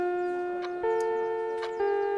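A school bell chime from the Japanese video game Sakura no Gakkou (School of Cherry Blossoms), sounding as a sustained tonal melody of several steady bell-like notes that step between pitches, clear and alone.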